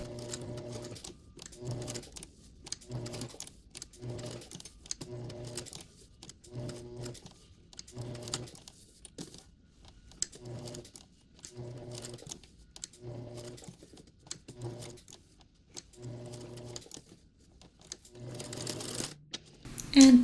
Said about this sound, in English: And now I'm going to sew around the little hands